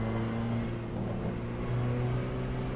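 A BMW M2 engine in the iRacing simulator hums steadily at a low, constant drone, fairly close and loud, with no talking over it.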